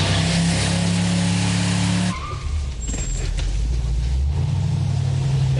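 A car with its rear brakes locked by a line locker slides on a stunt-show track at Warner Bros. Movie World, engine droning loud then shifting to a rougher, lower roar as the slide begins midway, with faint tire noise.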